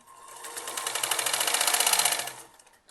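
A sewing machine runs a single steady burst of rapid stitching along a kurti sleeve, speeding into a dense, even whir for about two seconds before slowing and stopping, close and alone with no talk.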